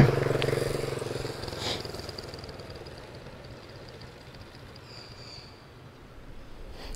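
A Vento 150cc motorcycle engine runs steadily at a close, even idle, with a low, smooth hum, a brief rise near the start and no voices over it.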